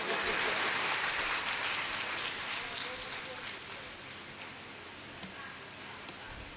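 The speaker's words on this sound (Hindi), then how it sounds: "जोरदार तालियों से स्वागत कीजिए।" An audience at a devotional Bhagavat Katha gathering claps in a dense, sustained burst that slowly thins out and fades, with a few scattered claps near the end.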